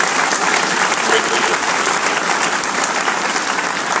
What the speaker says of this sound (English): another round of applause if we could